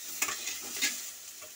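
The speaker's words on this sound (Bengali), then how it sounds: "পেঁয়াজটাকে এর মধ্যে আমি ভালো করে ভেজে নিচ্ছি।" Chopped onion with ridge gourd frying in a pan, a steady close sizzle broken by two sharp stirring scrapes and a fainter one near the end, with no voices.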